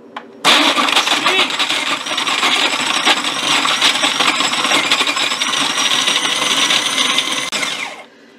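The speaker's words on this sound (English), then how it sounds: "So we're going to put this in the food processor." A food processor blending strawberry and banana sorbet whirs loudly and steadily for several seconds, starting abruptly and cutting off at the end, with grinding, rattling texture throughout.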